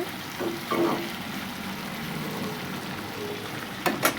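Vegetables frying in a pan for a bottle gourd and fish curry, a steady low sizzle with a couple of brief stirring scrapes near the start and end.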